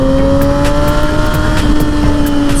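A Suzuki GSX-R 750 motorcycle engine revs high and holds steady in the upper power band, giving a loud, sustained whine with strong harmonic tones, close to the microphone and with no voices over it.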